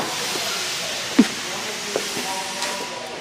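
Steady loud hiss of escaping steam with a few faint clanks as locomotive number 5 pulls its train away nearby at the Cass shops; no talking.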